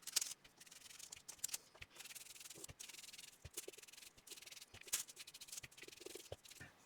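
Faint dry dabbing and rubbing as Distress Ink in Vintage Photo is applied with a tool to thin tissue collage paper, soft irregular scuffs close by in a quiet room.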